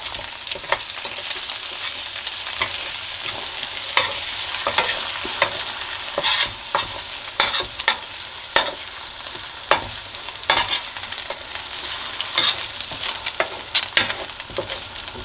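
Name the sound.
eggs frying in a pan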